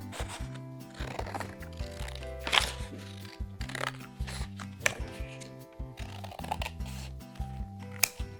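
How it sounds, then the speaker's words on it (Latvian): Scissors cut a design out of a porcelain decal sheet, producing a series of crisp, close snips and crackles at an uneven pace over soft background music. "jāizgriež vajadzīgais zīmējums no dekola lapas"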